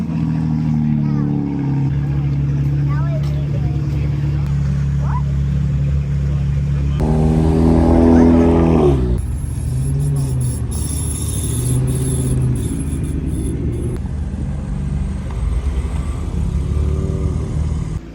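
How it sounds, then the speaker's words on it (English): A Nissan GT-R pulls away at a farmer's market car meet, its engine rumbling steadily and swelling briefly as it revs, with people talking nearby throughout. "Did you want to take a picture of the GTR before it leaves?"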